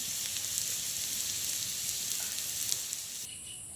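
Jackfruit seeds frying in a pan give a steady, bright sizzle that runs throughout, close and moderately loud, with faint crackles scattered on top and no voices.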